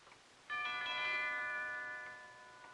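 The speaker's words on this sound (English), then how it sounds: "He just rang the bell again and then stood there." A doorbell rings once in a 1951 thriller, a clear sustained chime that swells quickly and slowly fades, heard alone in a quiet room.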